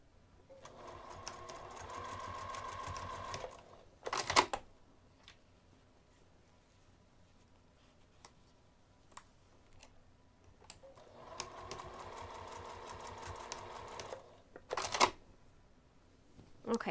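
A sewing machine stitches fabric for a craft bag in two bursts of steady whirring, each ending with sharp clicks and handling noises, with quiet pauses between.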